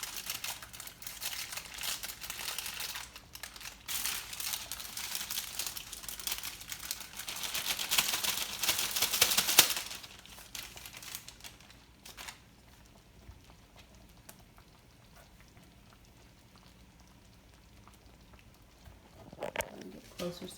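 A Pillsbury pre-made pie crust sleeve is crinkled and torn open in a kitchen with a long stretch of bright crackling paper noise that stops abruptly, followed by quieter handling and a voice talking.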